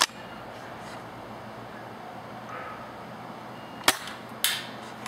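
Spring-powered A&K SVD II Dragunov airsoft sniper rifle fired outdoors: two sharp, quiet snaps about half a second apart, standing out from a steady low background hiss.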